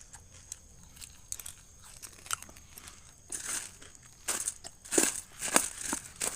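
Puffed rice mixed with chanachur being eaten, a series of quiet crisp crunches and crackles that grow louder in bursts toward the end, close and alone.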